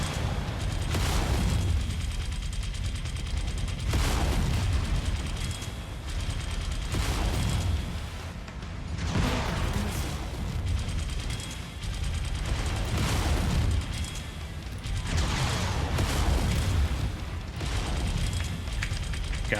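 Mech machine guns firing in MechWarrior 5 come in repeated loud mechanical bursts every few seconds, rattling and clanking over a constant rumbling machine drone, with no talk.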